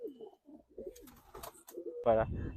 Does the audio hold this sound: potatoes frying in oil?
no